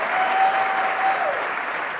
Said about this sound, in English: Give yourselves a clap there.